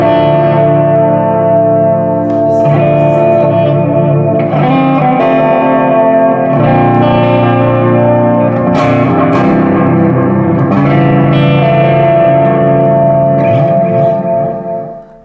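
Electric guitar through a Wampler Pantheon Deluxe overdrive pedal at low gain, loud and sustained chords and ringing notes with a lush, mildly crunchy edge and a reverb-like tail, played alone for about fifteen seconds.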